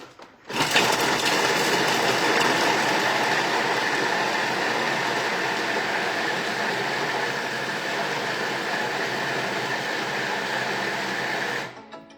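A Thermomix TM7 blends chicken stock paste at speed 5, giving a loud, steady whirring roar that starts abruptly, holds for about ten seconds and then cuts off, with no talk over it.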